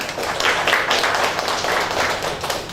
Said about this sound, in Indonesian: beri aplaus buat Anda semuanya